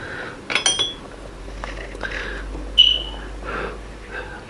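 A metal spoon clinks against a pot and bowl of hominy corn porridge, with a few sharp, close taps early on and one bright ring near the middle, over a faint background hum with soft breathing.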